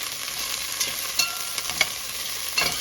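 Chickpea dish with cauliflower and cumin seeds sizzling and frying steadily in a pan, a continuous broadband hiss with occasional stirring clicks and scrapes, close and fairly quiet, no talking.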